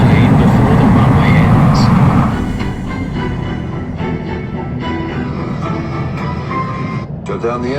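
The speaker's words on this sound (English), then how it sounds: "The pilots hope reverse engine power will stop the plane before the runway" Airliner engines roar in reverse thrust in the Infinite Flight simulator game, a loud, rumbling wash that eases after a couple of seconds into a steadier lower drone, with a few faint tonal chirps later on.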